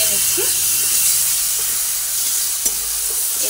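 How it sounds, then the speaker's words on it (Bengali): Ingredients fry in a pan for a Bengali chili egg dish, giving a steady broadband sizzling hiss throughout with a few soft stirring knocks and no voices. "ভালোভাবে একটু ভেজে নিচ্ছি"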